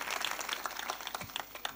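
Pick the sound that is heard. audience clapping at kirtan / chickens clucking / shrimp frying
audience clapping at kirtan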